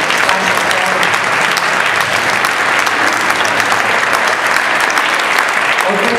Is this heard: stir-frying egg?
no